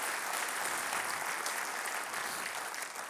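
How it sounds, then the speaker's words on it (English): An audience at a community development meeting in Long Beach gives a steady round of applause, a continuous wash of many hands clapping at moderate distance with no talking over it. "So let's give a big round of applause to our North Long Beach projects."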